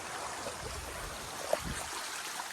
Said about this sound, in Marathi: आणि पाणी पण फुल चिखल येतं वरून.